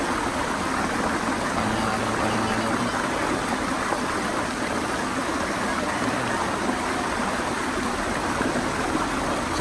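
A natural waterfall on Ticao Island, Masbate, roars steadily and close by, a dense unbroken rush of falling water with no talk over it.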